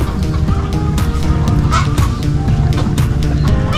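Ducks at a backyard pond with azolla beside a chicken farm, many loud honking and quacking calls overlapping close by in a continuous noisy chorus.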